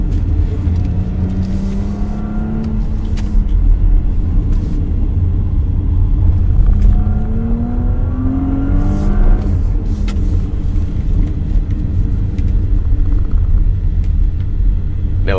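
A 2019 Porsche Cayenne S in sport mode accelerates hard along a highway, its engine a deep, steady rumble with rising and falling revs through gear changes, heard continuously from inside the car.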